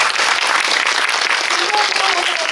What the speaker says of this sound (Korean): 감독님께 한번 박수 부탁드리겠습니다.